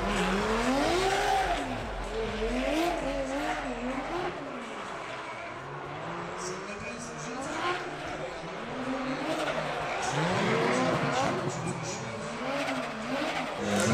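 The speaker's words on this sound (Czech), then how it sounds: "Což je vlastně tento GTR-ko našlapané s tím obrovským turbem." A heavily tuned turbocharged Nissan GT-R in a gymkhana event, engine rising and falling in repeated revving sweeps with tire squeal, heard under continuous commentary.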